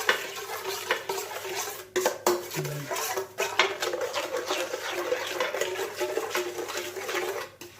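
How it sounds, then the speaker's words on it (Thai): Spoon scraping and clinking steadily against a bowl as sugar and seasoning are mixed into pork, continuous close stirring rhythm with brief pauses, no voices. "ผสมกันให้เข้ากันค่ะ"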